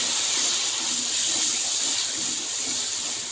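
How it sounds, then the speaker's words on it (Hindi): A splash of water hits garam masala frying in a pan for kali mirch chicken chana, setting off a steady, loud steam hiss and sizzle that holds evenly throughout. "यहाँ पे थोड़ा सा हम पानी डाल देंगे ताकि हमारे मसाले जले नहीं।"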